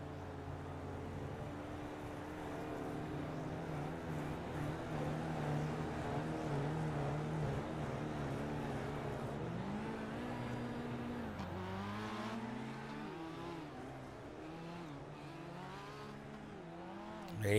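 Dirt race cars roll through a pace lap ahead of the green flag, a steady layered engine drone holding throughout with pitch rising and falling as the field circles, ending in a sudden loud burst.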